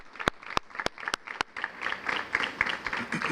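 Audience applause at a school recognition dinner, starting as a few loud separate claps and thickening into a fuller spread of clapping from the room, with faint murmuring voices underneath.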